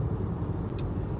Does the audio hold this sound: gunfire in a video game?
no